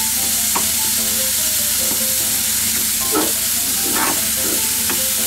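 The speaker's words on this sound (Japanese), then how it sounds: "油を少しだけ垂らして、そこにひき肉を投入します" Black pork mince frying in a little oil in a pan, a constant close hiss of sizzling with a few spatula scrapes and taps as it is stirred, no talking.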